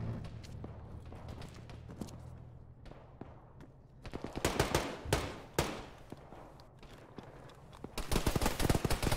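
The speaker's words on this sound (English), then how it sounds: "Ah, they're shooting at me." Gunfire rattles through a military video game firefight, with scattered single shots giving way to dense bursts of rapid automatic fire, loud and close, alongside distant shots.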